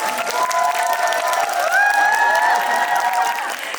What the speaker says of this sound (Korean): 장항 감독님께 박수 한번 치고